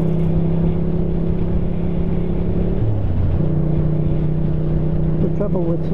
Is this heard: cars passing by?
yes